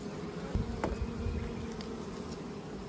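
Honeybees buzzing in a continuous drone at a horizontal hive, with a few louder individual passes close by against a low, steady hum.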